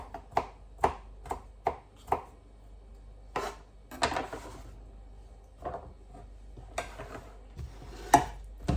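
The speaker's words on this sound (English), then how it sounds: "I just go over the cucumber so that it's chopped up nice and small" A knife chops cucumber on a board in a kitchen, with a quick run of sharp evenly spaced taps followed by scattered irregular cuts and occasional clatter, close and fairly quiet.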